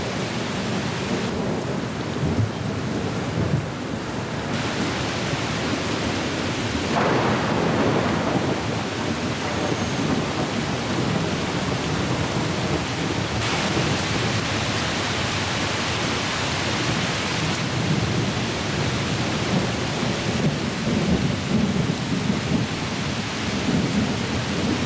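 Heavy rain pours down in a dense, steady roar, with rolling thunder swelling in and out for the whole stretch and no voices.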